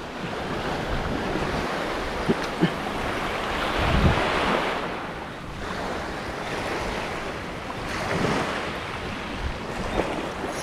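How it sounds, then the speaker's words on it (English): Ocean water surges and slaps around a fishing boat out at sea, a loud continuous wash with rolling swells and occasional knocks against the hull, buffeted by wind noise, with no talking. "Look how much water is moving through here."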